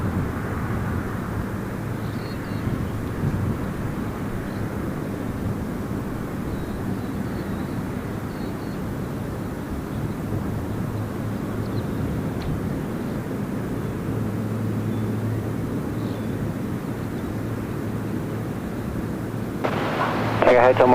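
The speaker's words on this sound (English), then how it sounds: "So this is an Air New Zealand A321 Neo." An Air New Zealand Airbus A321neo airliner at Gold Coast Airport gives off a steady, broad jet roar that holds level for the whole stretch, swelling slightly right at the end.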